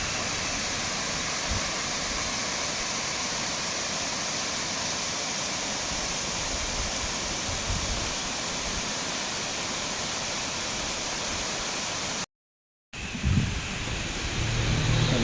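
Rushing water at Paloor Kotta waterfall, a loud, steady broadband roar heard close by and continuing unbroken, with a brief dropout near the end followed by a slightly different texture.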